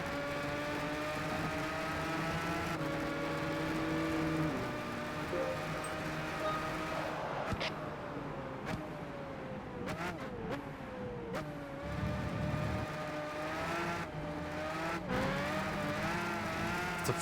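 A Ford Focus racing engine in Gran Turismo 5 drones steadily through the whole stretch, rising and falling with gear changes and brief tire noise, fairly loud and continuous.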